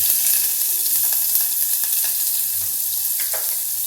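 Thinly sliced onion hits hot oil for a peas and potato rice dish, producing a loud, close, continuous sizzle with occasional spoon scrapes and stirring clicks, no talking.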